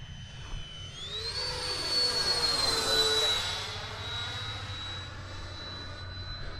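Freewing F-4 Phantom model jet making a flyby, its ducted-fan whine rising and sliding in pitch as it passes, steady and moderately loud with no talk over it.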